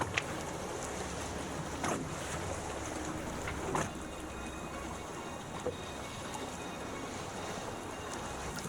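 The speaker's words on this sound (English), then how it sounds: "Here you have the longest boat I have seen today." A long boat, roughly 50 feet or more, passes on coastal water. There is a faint, steady rumble and wash of water with some wind, broken by a few brief knocks.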